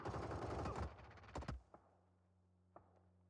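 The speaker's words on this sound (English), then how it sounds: "That's a drop-sounding gun." Video game gunfire, a dense rapid burst of loud automatic shots followed by a couple of isolated single shots fading into a steady electronic hum.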